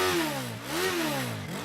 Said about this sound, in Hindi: बाइक पे किक मार।